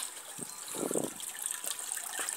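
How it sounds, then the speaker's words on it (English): Running water from a small backyard water feature splashes and gurgles steadily, near and fairly loud, with a brief stronger gush in the middle and no talking. "Little water feature right here."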